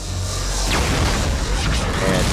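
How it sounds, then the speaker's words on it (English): A cannon fires in the video game Mass Effect 3 with a deep boom and a rumbling blast, followed by whooshing sweeps, loud over a dense bed of low battle noise. "I hate that cannon, by the way."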